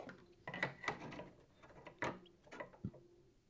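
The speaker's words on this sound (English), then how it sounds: "And now I can tighten up that clamp" A clamp on a shop-made planer stand is tightened, giving a few quiet mechanical clicks and ratcheting scrapes in short separate bursts, close up.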